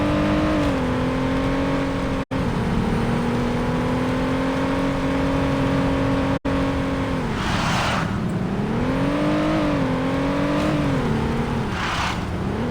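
Cars in a street race in the video game Saints Row drone steadily, engine pitch rising and dipping with shifts and revs, with faint whooshes of passing vehicles.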